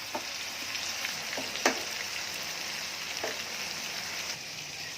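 Bhaji frying in oil, an even bubbling sizzle with a few sharp spits and pops, close and moderately loud, without any speech.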